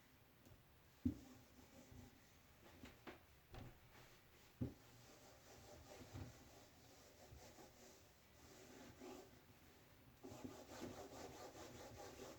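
A board is erased with scrubbing back-and-forth rubs in irregular bursts, faint and close, with occasional soft knocks and no talking.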